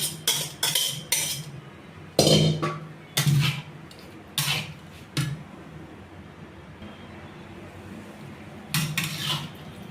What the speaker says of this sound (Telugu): కారం, టమాటా ముద్ద, చల్లారిన ముద్ద మొత్తం అంతా కలుపుకోవాలి బాగా.